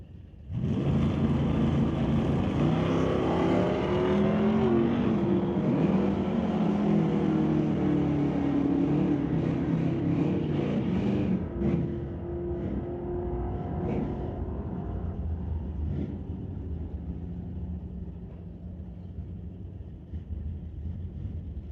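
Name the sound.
drag race: 1977 Chevy Nova against Ford Mustang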